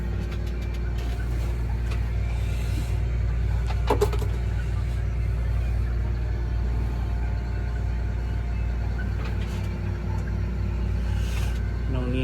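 A John Deere 750K dozer eases off a trailer, its diesel engine holding a low, steady idle-like drone with rhythmic mechanical pulsing and occasional clanks, close and continuous.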